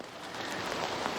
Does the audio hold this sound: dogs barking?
no